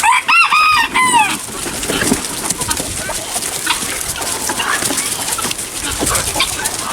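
Chickens clucking and squawking as they pour out of a homestead coop, with a rooster crowing briefly at the start, a busy flock chatter close by throughout.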